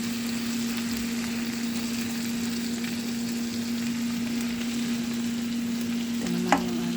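Pompano fish frying in a pan gives a steady, even sizzle with a low constant hum beneath it, and a single short clink near the end.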